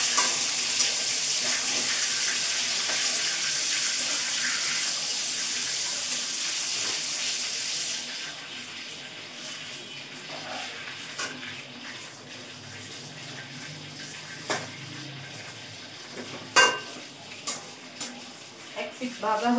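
Fish sizzling in a pan after being flipped, a steady hiss of hot oil at moderate level, fading slightly midway, with a few sharp clinks and spatters near the end.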